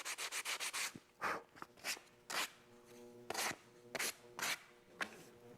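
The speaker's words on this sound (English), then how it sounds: "I'm going to take a little bit of sandpaper. Just kind of sand the" A piece of plexiglass is sanded by hand with sandpaper to take off the excess. Quick, close scraping strokes come in a fast run at first, then in slower, separate rubs with short pauses between them.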